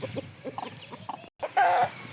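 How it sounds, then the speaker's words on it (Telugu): Several short clucks from country chickens on a farm, close by, followed by a louder drawn-out squawk, with a brief silent gap in between. "ఇక్కడ కొన్ని నాటుకోళ్ళు అయితే ఉన్నాయి"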